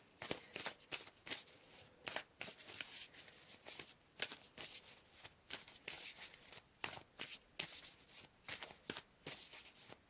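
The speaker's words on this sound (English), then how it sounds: "Let's go ahead and get some more cards for you and see what else we have coming out here." Tarot cards being shuffled by hand, a quiet, close run of rapid riffling and sliding bursts repeating steadily, with no talking.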